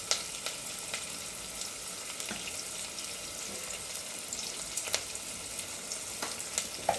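Chopped onions fry in a pan with salt, a soft continuous sizzle heard fairly near, broken by a few scattered sharp clicks and clinks.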